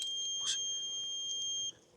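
A continuous high electronic beep tone from an iScooter i10 electric scooter holds steadily for under two seconds while riding at 9 mph, then cuts off, leaving faint road and motor noise.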